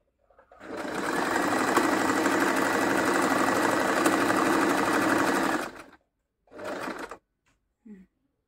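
A Singer M3505 sewing machine stitches a buttonhole, a loud close steady whirring hum lasting about five seconds, followed by a short second burst and a faint click.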